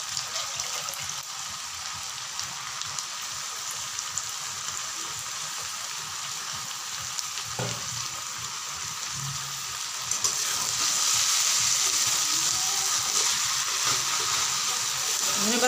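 A pan of spicy small-fish curry sizzles steadily after fresh coriander leaves go in, a close, continuous frying hiss that grows slightly louder partway through, with no clear talking.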